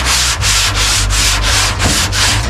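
Dual-action orbital sander working over epoxy body filler on a car body, a loud steady gritty whir with a rhythmic pulsing scrape as the pad sweeps back and forth, close up with no talking.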